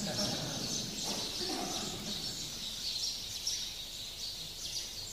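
Birds chirp and sing outdoors in the Himalayan ranges, bright calls scattered through the air at moderate distance, with steady outdoor ambience beneath.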